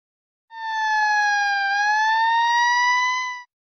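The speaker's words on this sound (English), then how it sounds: "Fire engine." A fire engine siren wails steadily for about three seconds, a loud, sustained electronic tone with a slight dip in pitch midway, heard alone with no other sounds.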